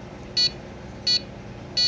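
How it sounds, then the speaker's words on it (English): A Robo-Tank auto top off controller emits three short, evenly spaced electronic beeps over a steady background hum. "So now it's going to beep 11 times."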